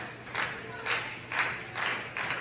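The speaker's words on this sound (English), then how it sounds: "Crowd coming alive here for Nate Wings" A wrestling crowd cheers and claps in rhythmic swells, about five evenly spaced surges of applause rising and falling over a quieter arena murmur, at moderate distance.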